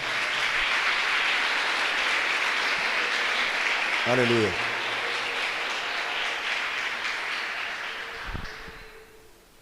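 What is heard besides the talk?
church congregation applause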